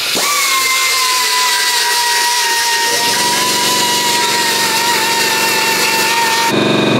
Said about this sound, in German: So ein Bandschleifer. Fingerschleifer.